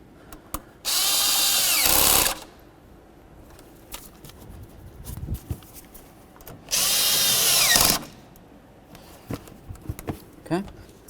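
Two bursts of a power tool, each about a second and a half, tighten hose clamps at the intake during an engine mount replacement on a 2007-2014 Cadillac Escalade, separated by quiet shuffling and small handling noises.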